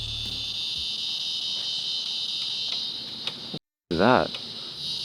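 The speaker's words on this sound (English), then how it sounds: "Cicadas." A steady, high-pitched insect drone of cicadas fills the background outdoors near a car rebuild, with a voice briefly speaking near the end after a short break.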